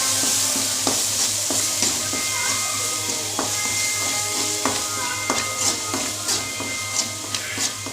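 Ground masala paste of tomato, chilli, garlic and cumin being stirred into ginger-garlic in a pan for mutton bone soup, giving a steady sizzle with repeated scraping stirs under a constant low hum.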